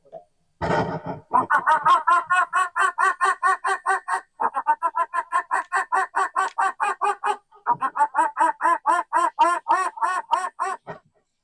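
A human voice imitates domestic ducks calling to each other with necks raised: rapid, rhythmic, nasal quacks, loud and close, delivered in three long bursts with brief pauses between them.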